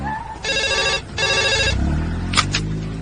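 A telephone rings in two long electronic trills, fairly loud and close, followed by a short clatter as the receiver is picked up, with low background noise throughout.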